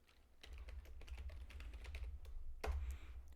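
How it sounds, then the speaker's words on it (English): Fingers type on a computer keyboard while entering a string into a Unity Bolt visual-scripting field, a close, steady run of quick key clicks ending in a louder keystroke burst, with no talk. "but I can still type in a string here."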